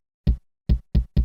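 Four punchy, deep thumps, each short and booming, with uneven gaps between hits like a kick drum being triggered.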